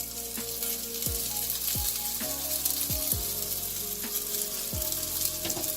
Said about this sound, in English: We're going to add our fresh garlic cloves in here